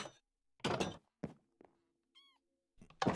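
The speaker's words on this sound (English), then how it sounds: "I heard a kitty cat." A cat in a video game gives one brief, faint meow, surrounded by loud, separate thumps and knocks, with a low steady hum between them.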